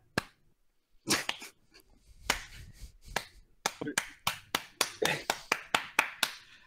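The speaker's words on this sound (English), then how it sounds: "The slow clap." A single person gives a slow clap, sharp hand claps that start sparse and then settle into a steady, evenly spaced rhythm, close and fairly loud, with no voices.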